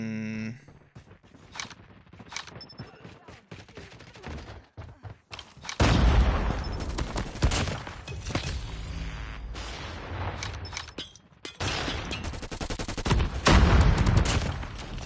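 Rapid bursts of KRIG 6 rifle fire in a Call of Duty ranked match, loud repeated volleys with short gaps and scattered booms among other game sounds, with no talk.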